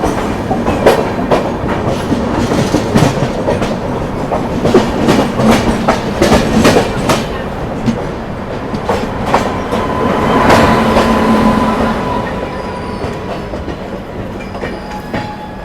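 A Mumbai local commuter train rolls along near Masjid station with steady rumbling and rhythmic clickety-clack of wheels over rail joints, loud and close, with no voices.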